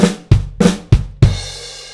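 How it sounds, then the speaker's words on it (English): Five sharp snare flams land in an even pulse with bass drum eighth notes between, each a double strike with a deep thump, the last ringing out longer. "You can also add eighth notes on the bass drum in between those flams."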